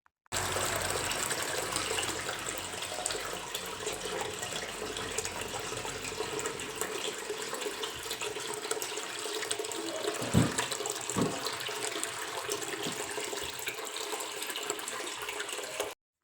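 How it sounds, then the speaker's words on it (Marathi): Continuous running and sloshing water as potato slices are rinsed in a vessel, with a couple of dull knocks partway through. "छान असं धुवून घ्यायचे असतात तर मग मी येथे दोन तीन पाण्यानं मग धुवून घेतले होते वेपर्स"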